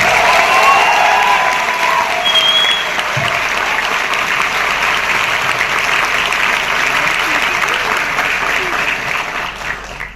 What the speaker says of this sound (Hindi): एक बार और तालियां हो जाए